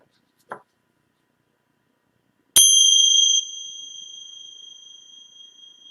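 A bell or gong is struck once to close a group session, ringing with a sharp attack and a long, clear tone that slowly fades. A short faint knock comes earlier, and there is no talk.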